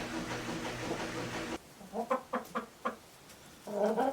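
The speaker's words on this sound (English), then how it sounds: "So these are going to go to the chickens." Farm chickens clucking outdoors at a farmhouse in winter: a run of short, faint clucks in quick succession after a stretch of background noise, then a louder burst of clucking at the end.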